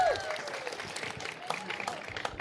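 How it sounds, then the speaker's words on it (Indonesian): An audience claps at an outdoor event held in a rice paddy, steady moderate applause for a couple of seconds with some voices mixed in. "Tepuk tangan dulu Bapak Ibu-Ibu."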